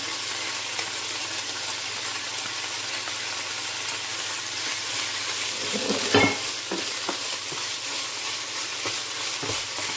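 Onion, tomato, ginger and garlic fry in a pan with a steady, hissing sizzle throughout, broken by a spoon scraping and tapping the pan near the middle.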